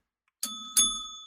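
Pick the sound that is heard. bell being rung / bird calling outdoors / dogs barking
bell being rung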